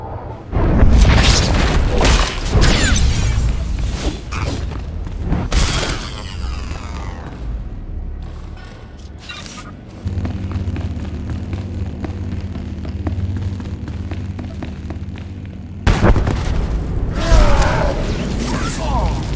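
Spice labs blown up in Star Wars: The Old Republic, heavy booming blasts and rumbling mechanical debris that rise and fall over about twenty seconds, with a loud renewed burst near the end.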